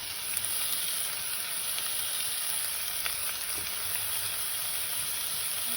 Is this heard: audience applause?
no